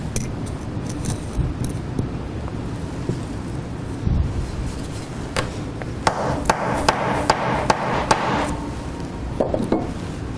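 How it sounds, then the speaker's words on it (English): A tamper struck with a hammer compacts a soil sample in a shear box, a run of sharp, evenly spaced knocks landing close by over a low background rumble. "using the tamper and the hammer given, compact the soil sample with 25 blows"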